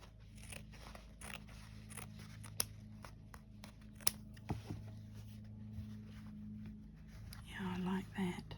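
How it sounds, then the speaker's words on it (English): Scissors snip through paper while a snowflake shape is cut out, a series of small, close, crisp snips and crunches under quiet, soft talk. "I might actually cut a bigger snowflake out"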